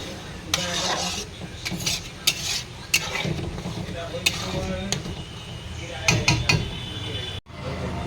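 A spoon stirs vuna khichuri in a pot, with repeated scraping strokes and metallic clinks against the pot over a low sizzle. Someone talks at times in the background.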